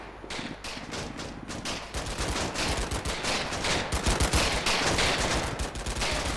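Gunfire in the World War II game Combat Mission: Battle for Normandy, with rapid bursts of machine-gun and rifle shots that start sparse and build into a dense, sustained fusillade of cracks and rattles.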